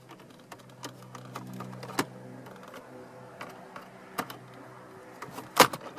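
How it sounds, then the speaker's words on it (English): A plastic pry tool works loose the trim bezel around the screen on the dash of a 2016 or later Ford Escape, with scattered soft plastic clicks and creaks and one sharp snap of a clip near the end. "Now we will take our plastic pry tool and use it to begin to release this plastic bezel on the front of the dash that surrounds the screen."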